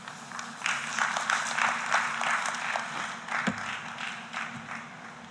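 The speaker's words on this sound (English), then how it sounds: "Let's give her another applause." Audience applause in a conference hall after a talk on environmental and safety impacts, a moderate, fairly distant patter of clapping that swells and tapers with a few louder claps, no talking over it.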